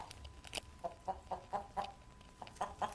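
Hens clucking on a farm, a run of short, rhythmic clucks repeating about every quarter second over a low, busy background, fairly close and clear.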